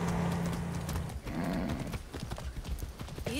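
A horse in Far Cry 6, hooves clip-clopping steadily at close range with a brief neigh partway through, set against game ambience.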